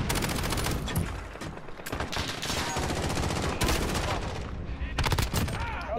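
Rapid gunfire in Call of Duty Modern Warfare gameplay, dense bursts of automatic shots rattling almost continuously at close range, with brief gaps and louder volleys near the end.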